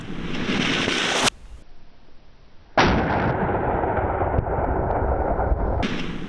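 Two loud close hunting rifle shots fired at a blackbuck, each a sharp blast with a long rolling echo, the second followed by a sustained reverberating boom.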